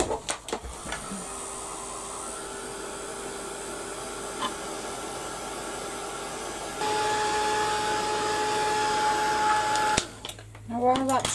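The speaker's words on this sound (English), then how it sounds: "I'm just going to get the heat gun on that and give it a quick blast" A heat gun blasts a mixed media frame artwork as it dries, giving a steady close whooshing hum that grows louder midway and then cuts off, with brief handling noises at either end.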